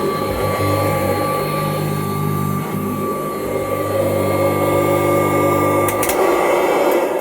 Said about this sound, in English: it still vacuums rather well. As you can see, it is grooming the carpet.